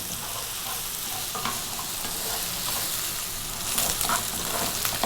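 Ethiopian lamb tibs with tomato frying in a pan, stirred constantly: a steady, close sizzle with scraping and stirring noises running throughout, growing slightly busier toward the end.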